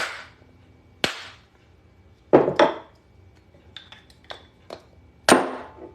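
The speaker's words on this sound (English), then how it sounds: "so I'll just remove it with this leather mallet" A leather mallet knocks a coin off a metal punch while a coin ring is being made: several sharp, close knocks in an irregular rhythm, some in quick pairs, with small lighter taps between them and no talking.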